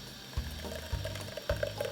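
A blended Thanksgiving drink is poured through a strainer in short gurgling splashes, three quick pours of liquid close up with no talking.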